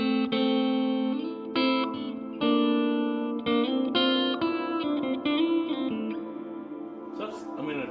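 Repeated electric guitar strums pass through a Donner delay and reverb pedal with its tone adjusted, each chord blooming into a washy reverb that thins and fades toward the close before a short flurry of notes.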